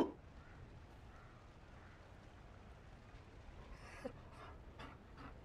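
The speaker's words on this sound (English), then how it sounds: "You found a dog?" A Mabari war dog in the fantasy game Dragon Age: Inquisition pants quietly under faint background ambience, with a few soft sounds near the end.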